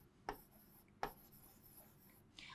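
The word football is written on a board during an English grammar lesson. Two sharp taps land about three quarters of a second apart, each followed by soft scratchy strokes, all close and fairly quiet with no talking.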